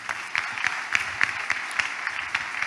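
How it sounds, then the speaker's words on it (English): A church congregation gives a clap offering, with steady applause from many hands and a few sharper claps rising above it, filling a large room. "Can you give the Lord a clap offering?"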